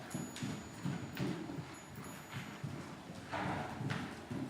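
Rhythmic clip-clop of horse hooves in a steady rising trot during saddle seat equitation, close and moderately loud, with a regular two-beat cadence throughout.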